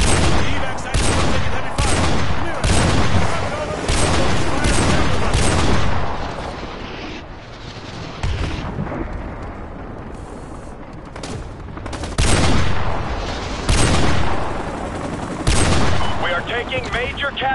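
Heavy gunfire and explosions in Call of Duty Modern Warfare 2 Remastered during a battle at the Washington Monument, loud repeated bursts and booms with short pauses, mixed with radio-style voices talking.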